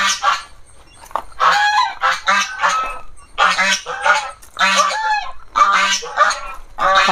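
Geese honking in repeated loud bursts at a farm in Kerala where turkeys, black chickens and ducks are kept, several birds calling close by with short pauses between volleys.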